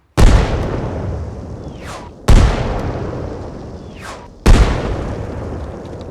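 A house destroyed in Arma Reforger, with three heavy explosive booms spaced about two seconds apart, each followed by a long rumbling decay and falling debris whistle.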